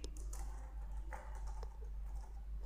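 Quick, light keystrokes on a computer keyboard tap out a terminal command in short irregular bursts, quiet and close, with no voice over them.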